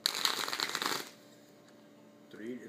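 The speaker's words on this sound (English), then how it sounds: "Oh my god, does it take you that long to shuffle?" Uno cards are shuffled up close in a rapid riffling burst, followed by a quieter pause and then a person speaking briefly.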